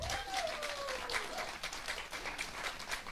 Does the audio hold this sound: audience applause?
yes